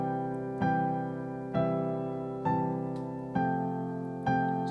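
Solo piano plays a slow melody theme beginning on G, five separate sustained notes struck at an even, unhurried pace, each ringing and fading before the next, close and clear with no talk.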